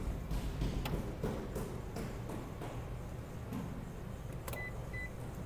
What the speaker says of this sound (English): Power controls for that third row to fold them up and down.